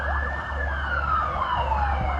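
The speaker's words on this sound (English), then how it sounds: "All these sirens." Emergency vehicle sirens wail in Campbelltown, a sweeping tone gliding downward with overlapping siren layers, heard at moderate distance over low traffic rumble.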